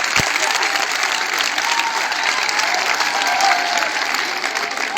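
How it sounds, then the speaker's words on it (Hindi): A large audience applauds steadily and loudly at a talk, a dense, even wash of clapping that holds for the whole stretch with no break. "अगर कभी हमारे विचारों से सहमत हो तो तालियां जरूर बना देना"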